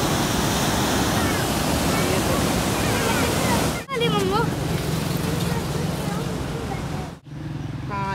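Loud, steady roar of rushing Indus River water at Taunsa Barrage, a continuous wash of churning flow with people talking over it throughout.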